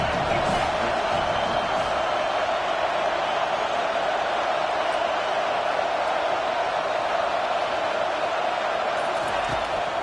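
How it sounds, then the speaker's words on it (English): A football stadium crowd roars steadily for the defense on a big third down, a dense, continuous wash of cheering that stays loud and even throughout with no pauses. "Big third down as the crowd gets behind this defense"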